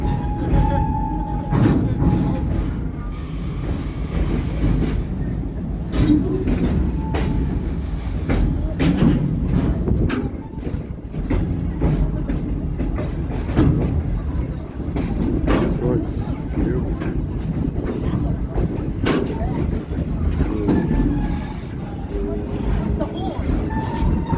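The Serengeti Express train at Busch Gardens Tampa rolls along with a steady rumble and intermittent track clatter, heard from on board, with a narrator talking over it throughout.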